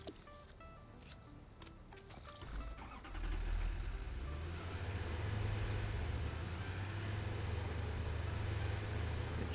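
A truck engine in the video game Satisfactory starts up and settles into a steady, loud low rumble after a few seconds of quieter clicks.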